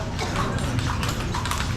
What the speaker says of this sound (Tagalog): Kabayo, kabayo. Mami, kabayo.